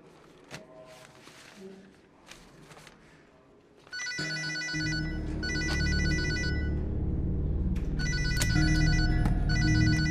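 A telephone rings at a police station, a bright repeating electronic ring that comes in midway and stays loud over a low hum, with a few faint knocks before it.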